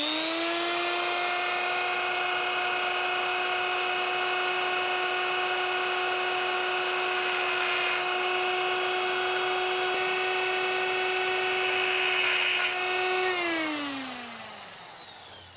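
A high-speed power tool tapers an edge inside a Ford FE engine block, giving a loud, steady whine with a bright metallic grinding edge that holds for about thirteen seconds. The pitch then drops as the tool spins down. No one talks.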